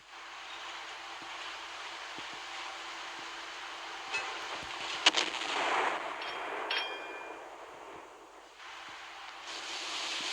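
Naval gunfire from a Monarch-class battleship firing high-explosive shells at a Yamato in the Naval Creed video game: a steady rumbling background broken midway by a few sharp, loud booms and crackling impacts, with no talking.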